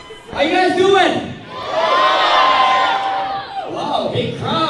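A large crowd at a fitness event in Hamilton cheers, whoops and shouts in loud swelling waves, close and sustained, with a voice calling out over the noise.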